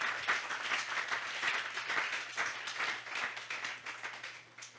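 A congregation at a church service applauds, a steady rolling wash of claps held at moderate level from start to finish, with no voices rising above it.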